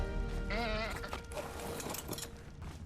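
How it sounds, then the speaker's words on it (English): A sheep in the video game Ark Ascended bleats once in a wavering, drawn-out call, fairly close, over a steady bed of in-game ambient noise. "I keep hearing a sheep."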